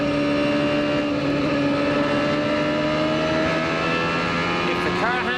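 A 1995 CART IndyCar engine at New Hampshire screams at high revs in a sustained, loud drone with shifting tones as the driver modulates the throttle on and off, with commentary running over it.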